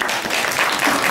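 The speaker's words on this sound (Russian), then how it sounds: "Наши аплодисменты." An audience in a church hall applauds a visiting St. Petersburg writer with a dense, even burst of many hands clapping together, brief and fairly loud.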